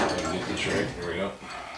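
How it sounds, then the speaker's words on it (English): Sheet metal drawers sliding on plain interlocked, non-ball-bearing runners in a Harbor Freight 27-inch 11-drawer tool chest, giving a continuous rattling scrape with light metallic clinks, close and fairly loud. "fairly good sized drawers. They slide pretty decent."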